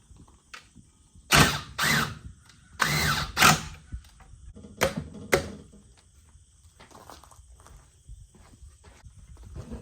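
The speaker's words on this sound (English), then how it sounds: "we're just going to connect the last few screws to the back piece" A power drill driving screws into a wooden outdoor bench back piece, several short loud whirring bursts in quick succession followed by quieter handling and clunks of wood.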